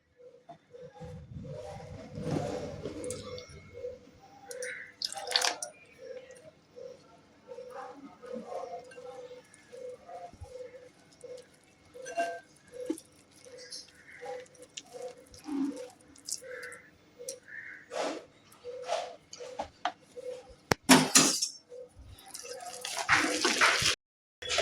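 Water poured little by little into gram flour (besan) batter while it is mixed, giving wet squishing, splashing and slapping sounds at close range in irregular bursts, with faint talk around.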